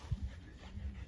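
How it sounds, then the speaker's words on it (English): A Border Collie sheepdog on an Irish farm gives a short, soft whimper, brief and close, with faint panting. "They're very loyal dogs, the Border Collies."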